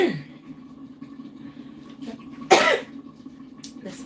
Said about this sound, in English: everything I use in here, it's making me cough.